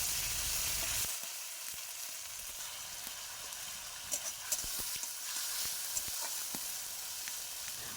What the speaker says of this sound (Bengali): মশলা আমি ভালোভাবে কষিয়ে নিয়েছি